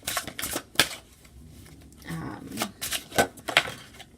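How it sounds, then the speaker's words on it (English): Tarot cards shuffled by hand in quick, irregular bursts of riffling and snapping, close by, with a voice speaking between and over the shuffles. "Why do I keep on shuffling the cards?"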